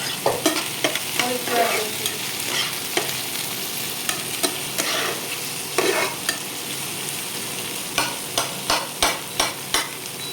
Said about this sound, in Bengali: ওই বুড়া মাছগুলো আমি ভাজি করবো ওখানে